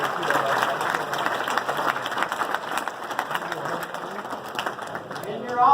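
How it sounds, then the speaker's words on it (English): An audience at a Service Electric safety kickoff event claps steadily for several seconds at close range, a dense wash of applause with some voices mixed in, swelling slightly at the end. "So give them another round of applause."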